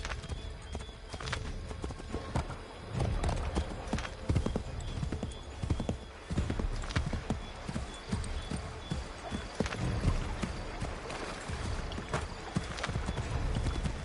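A horse's hooves clip-clop steadily at a trot in the video game Assassin's Creed III, rhythmic thuds continuing throughout with occasional louder hits and background game sound.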